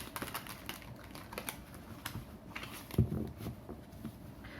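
Tarot cards shuffled by hand, a quick series of dry riffling clicks and soft slaps with a firmer tap near the end, close and alone.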